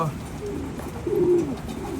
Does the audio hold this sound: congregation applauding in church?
no